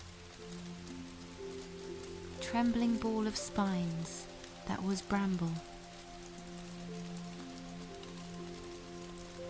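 Steady rain falls through a night setting, a soft continuous patter running the whole time beneath a calm voice that speaks for a few seconds in the middle.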